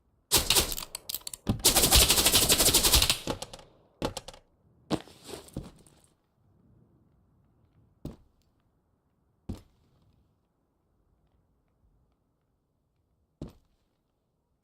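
Gunfire in the video game Arc Raiders opens with a sustained loud automatic burst, then scattered shorter bursts and single sharp shots spaced seconds apart in near silence.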